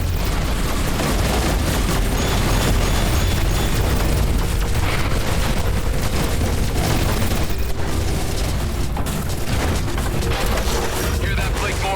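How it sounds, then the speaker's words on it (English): Missiles explode in continuous booming blasts during a space dogfight in the video game Everspace 2, with dense rumbling impacts layered under game dialogue. "Missiles were deployed."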